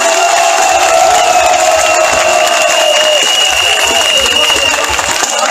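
A large rally crowd in Côte d'Ivoire cheers and applauds in a loud, continuous roar, with shouting voices and a sustained pitched tone running through it.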